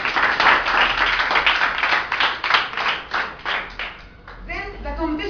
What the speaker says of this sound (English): Okay, clap your hands for him.